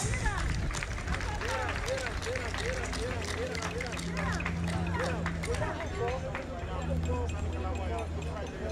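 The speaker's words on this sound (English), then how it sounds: "Another round of applause" Audience applause at a formal royal reception, a steady dense patter of many hands clapping that fills the space evenly throughout, with crowd murmur and a voice running underneath.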